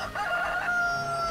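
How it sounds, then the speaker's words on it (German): A cartoonish chicken crows in the Touring Karts VR kart-racing game, a loud, close squawking cock-a-doodle over steady engine drone, lasting about a second. "Wow, was war das? Ein durchgeknalltes Huhn."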